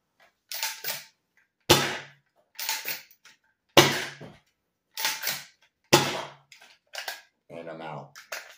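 Unicorn foam dart blaster fitted with an upgraded plunger tube and spring, firing about six sharp, loud single shots at roughly one-second intervals, each a hard pop followed by a short rattle, with brief soft sounds between shots.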